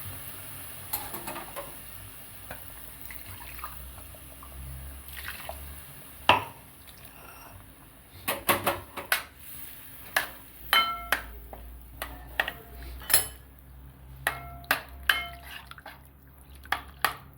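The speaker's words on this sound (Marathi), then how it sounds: "आपण हे मिक्सरचं भांडं असं धुवून घ्यायचं" Rinsing a mixer grinder jar in a home kitchen, with water dripping and splashing and metal clinking against the jar in scattered bursts that grow busier and louder toward the end.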